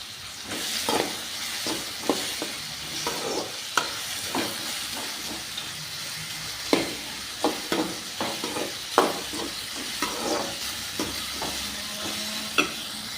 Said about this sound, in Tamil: பீர்க்கங்காய் வந்து எண்ணெயில் நல்லா வணக்கிக்கலாம்